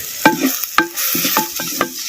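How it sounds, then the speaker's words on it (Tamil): Ground masala sautés in oil with onion and tomato for Chettinad cooking, with loud, rhythmic spatula scrapes and stirs about every half second over a hissing sizzle. "சேர்த்த மசாலாவை நல்லா பச்சை வாடை போகிற அளவுக்கு அப்படியே எண்ணெயில் நல்லா வதக்கி விட்டு"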